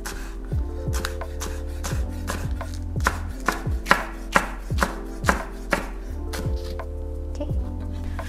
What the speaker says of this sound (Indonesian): Ini kita potong untuk garnish, untuk finishing. Kita potongnya angled aja.